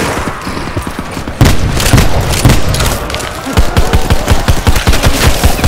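Heavy automatic gunfire in Call of Duty Black Ops 4, very loud and close, with a sustained fusillade, booming impacts, and a rapid rhythmic burst toward the end, with no speech.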